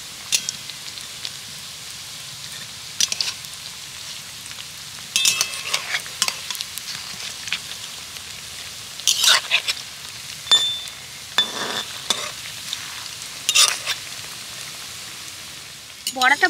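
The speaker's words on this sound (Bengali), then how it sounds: "সুজির এই বড়াগুলোকে এবার আমি উল্টে দেব, আর উল্টে পাল্টে ভালো করে ভেজে নেব" Semolina fritters frying in oil as they are flipped, with a quiet continuous sizzle punctuated by bursts of crackling and spatter alongside scraping stirs.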